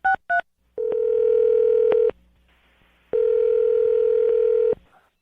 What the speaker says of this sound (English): I'm going to dial his phone number right now and let you make your Awkward Tuesday phone call.